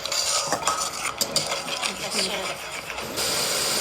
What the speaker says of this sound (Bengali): এবার এটা কষাতে সামান্য একটু জল দিয়ে দিলাম, যাতে জিনিসটা লেগে না যায় কড়াইতে।